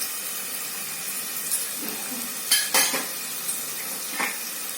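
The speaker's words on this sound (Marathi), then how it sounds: "हे पूर्ण परतवून घ्यायचं आहे तेलामध्ये" Spices sizzling in hot oil for soybean curry, with red chili powder, garam masala and turmeric stirred in; a steady low frying hiss runs throughout, broken by a few sharp clinks of a spoon against the pan near the end.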